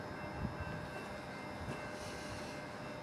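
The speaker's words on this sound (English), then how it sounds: "N454 with the N11 car set going back to Geelong." A V/Line N454 locomotive hauling the N11 car set passes near Geelong, a steady loud rumble and rail roar with a faint sustained tonal whine, continuous throughout without talk.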